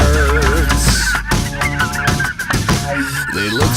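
Fowl call loudly and close by, clucking and squawking in overlapping bursts with a chicken-like crowing quality that carries continuously throughout.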